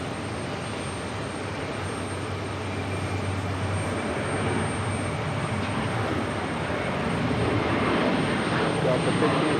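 A jet aircraft at JFK airport roars on takeoff, a steady broad rumble that slowly grows louder and fuller over several seconds, heard from a distance with no voices.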